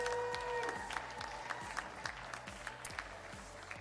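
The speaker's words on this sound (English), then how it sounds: "So round of applause to everybody else." Applause from an audience at a squash club event, a steady wash of clapping with some hand claps standing out, moderately distant, fading slightly toward the end.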